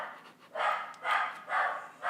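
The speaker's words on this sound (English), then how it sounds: "My dumbass dog." A dog barks indoors, three close, loud, evenly spaced barks in quick succession with no talking.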